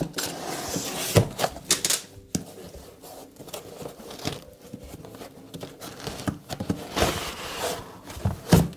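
Cardboard parcel holding LiFePO4 battery cells ordered from Aliexpress being opened, with close, irregular bursts of tearing, crinkling packing material and tapping scattered through, louder near the start and end.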